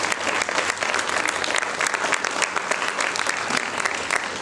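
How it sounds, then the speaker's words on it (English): An audience applauds a dancer at her classical dance debut stage performance, a loud, dense burst of clapping from many hands, sustained evenly throughout with no talk over it. "I think a big round of applause to the Fiza, Vora, for that beautiful presence that she has on stage"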